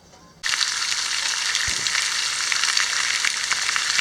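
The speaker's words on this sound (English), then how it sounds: "Here, have a look at this fry up." A breakfast fry-up sizzles on a Cadac 2 Cook 2 Pro Deluxe QR gas barbecue beside a caravan. Loud, dense frying starts abruptly after a quiet moment and keeps crackling and spitting steadily, close by, with no voices.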